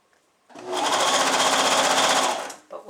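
A sewing machine stitches slowly over a hem seam on a swimsuit, running as one steady, loud, close whirring burst for about two seconds before stopping.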